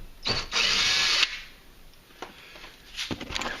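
A DeWalt cordless drill backs 6mm screws out of a 2009 Ford F150 XLT truck door panel, giving a close whirring burst of about a second followed by several shorter, fainter spins and clicks.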